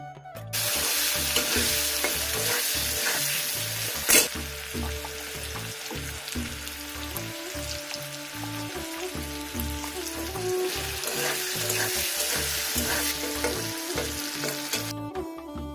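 Potatoes and cauliflower fry in a pan, a strong continuous sizzle with stirring and clattering, one sharp knock early on, and faint background music underneath throughout.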